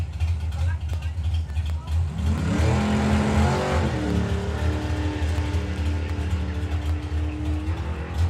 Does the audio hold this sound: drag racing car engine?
yes